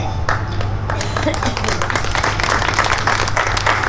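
Audience applause at a literary book presentation in Trapani, a dense steady patter of many hands clapping throughout, with a constant low hum beneath and some voices mixed in.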